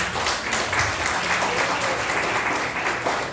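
Steady applause from a church congregation during a worship service, a dense, continuous patter of many hands clapping at moderate volume for a few seconds without a break.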